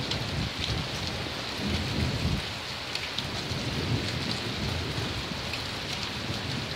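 Intense rain and hail drumming hard and steadily during a German thunderstorm, with deep thunder rolling underneath in swells, loud and close, no speech.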